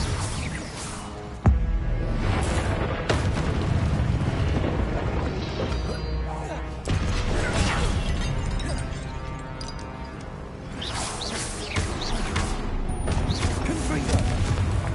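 Spell explosions in the Hogwarts Legacy video game: a dense, loud barrage of booms, blasts and crashing impacts that runs without a break, with combat noise layered on top.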